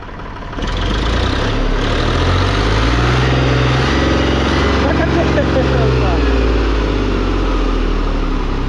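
A vintage Kirloskar tractor's heavy engine rumbles loudly and steadily after starting up, with a low throbbing idle that holds without much change.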